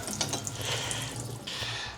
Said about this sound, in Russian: каждую пиалочку я сейчас прополоскаю холодной водой